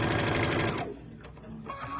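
Sewing machine stitching fabric pieces for a winter table runner, a close, loud run of rapid stitching that stops partway, followed by quieter handling sounds.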